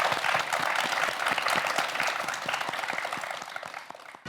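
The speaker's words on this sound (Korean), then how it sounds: "두 학생 모두에게 큰 박수 부탁드립니다." A studio audience claps steadily for two students, a dense, even burst of applause lasting a few seconds before fading out.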